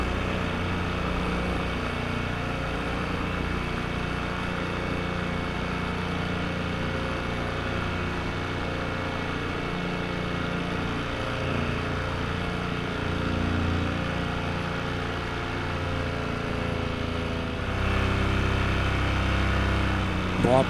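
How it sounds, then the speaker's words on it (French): Paramotor engine running steadily in flight over a plain in Provence, a continuous droning buzz that holds at constant loudness, swelling slightly near the end. "vérifier que le moteur fonctionne bien"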